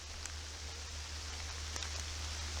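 Steady rain falls on a wide wooded trail in Minnesota, a soft continuous hiss with faint patter and a few sharper drops, no voices, under a low constant hum.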